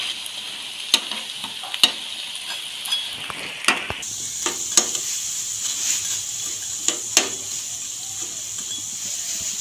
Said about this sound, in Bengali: এপিট ওপিট করে ভাজা হয়ে গেছে দেখুন ফ্রেন্ডস